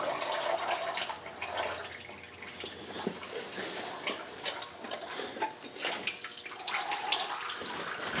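Engine oil drains from a 1956 Chrysler Windsor into a catch pan, a faint steady trickle and splatter of liquid with scattered drips running throughout, no voices.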